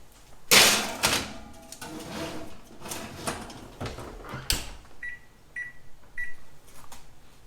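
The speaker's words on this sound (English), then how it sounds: "then you want to put your sheet pan in your oven" A sheet pan of caramel-covered crackers goes into a home oven, with a loud metallic clatter followed by scattered clunks and a door thud, then a few short electronic beeps from the oven panel.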